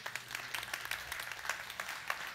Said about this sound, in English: Give the great strategist a big hand clap.